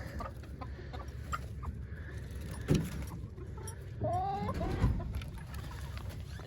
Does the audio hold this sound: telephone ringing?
no